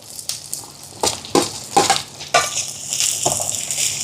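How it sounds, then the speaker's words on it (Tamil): Onion and chopped chili are sautéed in a pan in a Jaffna home kitchen, with loud, close stirring scrapes and spatula knocks over a rising sizzle that grows steadier toward the end. "இதையும் சேர்த்து இப்போ வதக்குவோம்"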